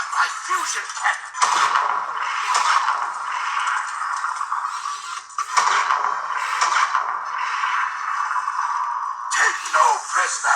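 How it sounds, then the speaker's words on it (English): Robosen Megatron auto-converting robot toy firing its fusion cannon: several loud, close electronic blasts with sharp, bursty attacks over a steady synthetic hiss, repeated through the stretch. "Now you'll witness the power of my fusion cannon."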